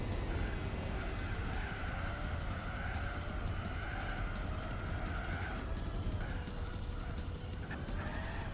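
A Formula 1-style race car in Gran Turismo 4, its engine a loud, continuous high-pitched whine that climbs and falls through gear changes over a steady roar.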